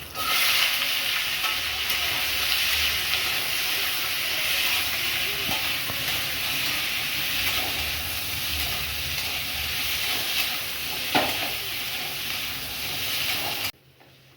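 Potatoes and onions fry in a pan with a steady, loud sizzle and hiss. The sound carries on evenly with faint stirring scrapes and stops abruptly near the end.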